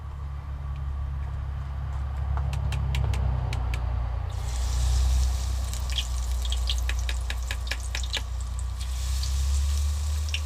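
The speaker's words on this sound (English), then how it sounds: "our first attempt at doing fried green chilies, found that the batter's a little thin" Battered green chilies deep frying in an RV kitchen: a steady hiss of bubbling oil with scattered crackles and pops rises partway through, over a constant low hum.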